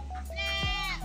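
A hungry native goat gives a loud, close, wavering bleat out in a pasture, with a low steady background hum and a faint second call.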